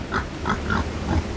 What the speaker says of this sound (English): Hey, pigs.